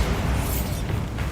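Bombarda blasting spell in Hogwarts Legacy on PC, a loud booming explosion with a crackling rumbling tail, close and full throughout with no speech.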